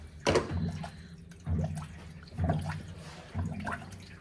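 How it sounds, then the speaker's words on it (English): Coolant poured into the engine of a 1962 Dodge D200, coming in glugging bursts roughly once a second, close and distinct with quiet gaps between the gulps. "Are we filling with coolant"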